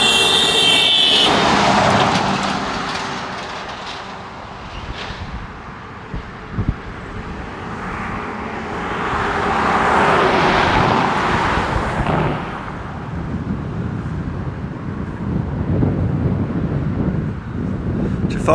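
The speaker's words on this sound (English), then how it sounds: "It so happened that it was stormy and windy the morning we filmed there." Stormy wind batters the microphone on a roadside while cars rush past, the roar swelling and fading in long waves with a brief horn-like tone at the start.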